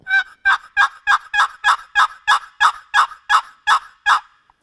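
A wooden turkey box call producing a rapid series of about twelve evenly spaced yelps, loud and close, with nothing else around them.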